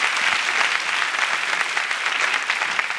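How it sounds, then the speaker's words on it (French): Applause from a comedy club audience, steady dense clapping at full loudness throughout, with no voices over it. "Applaudissez pour le Sénégal, s'il vous plaît."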